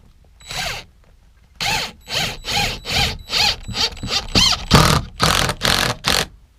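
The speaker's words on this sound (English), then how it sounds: "I'm just going to drill it and hope that it sticks" A power drill runs close by in a quick series of short bursts, about a dozen whirring pulses with brief gaps, after a single opening burst.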